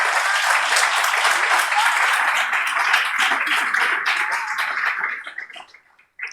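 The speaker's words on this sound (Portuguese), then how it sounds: "Você pode aplaudi-lo por isso?" A congregation at a religious human-rights gathering applauds, loud dense clapping close by that holds steady for several seconds before trailing off abruptly.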